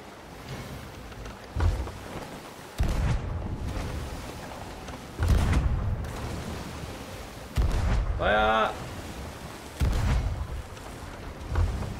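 Ship cannons fire during a naval game of Sea of Thieves, several heavy booming blasts spaced a couple of seconds apart with rumbling low-end tails, while a player talks between shots.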